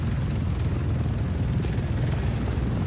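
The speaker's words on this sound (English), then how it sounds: "And follow those helicopters." Helicopters fly overhead in the video game The Division, a dense, continuous low rotor rumble that stays loud and steady throughout with no voices.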